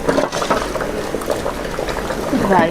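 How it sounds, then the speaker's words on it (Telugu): Rice simmers in a pot with a loud, bubbling, watery boil and irregular pops, heard close. Some faint background sound runs under it, and rice flour for ragi sangati is about to be added. "అన్నం ఉడుకుతుంది"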